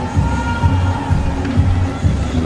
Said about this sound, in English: The crowd loved it.